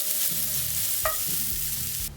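Sliced onion and chopped garlic frying in hot oil for homemade wheat noodles, with a steady close sizzle broken by a few stirring scrapes and a spoon tap midway.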